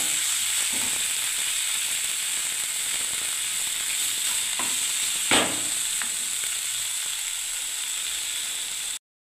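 Food sizzles steadily in hot oil with a continuous frying hiss, broken by a few soft scrapes as it is stirred in the pan after freshly made chhena is poured in.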